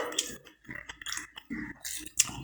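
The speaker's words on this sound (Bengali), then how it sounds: "মূলো শাক ভাজাটা খুব সুন্দর হয়েছে খেতে, একদম কচকচ করছে" Crunchy chewing of fried radish greens cooked with dried red chillies, a series of close, irregular bites and munches with brief pauses between them, no talking.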